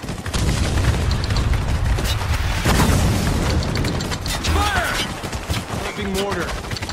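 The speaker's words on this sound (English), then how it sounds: "Mortar." Mortar blasts and heavy explosions in the Spec Ops: The Line video game, booming continuously through dense battle noise with characters shouting and radio chatter over the top.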